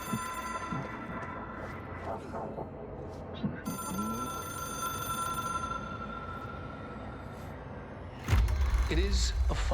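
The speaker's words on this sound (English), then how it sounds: "It is a phone." A telephone rings in the video game Control, a steady electronic ring that holds for several seconds with voices talking around it before a loud thud cuts in.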